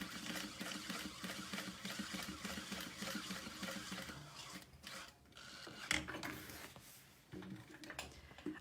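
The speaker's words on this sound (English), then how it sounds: "as I get close to that, I'm back stitching over my existing thread" A sewing machine back stitching through a vinyl tote bag, giving a rapid, rhythmic mechanical chatter up close that runs steadily, then pauses and starts up in short bursts.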